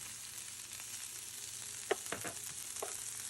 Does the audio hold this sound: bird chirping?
no